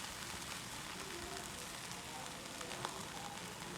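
Eggs for a vegetable omelette fry in a pan with a steady, faint, close sizzle that crackles evenly throughout, with no voices.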